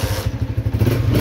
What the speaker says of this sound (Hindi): मोटरसाइकिल को मैं स्टार्ट कर देता हूँ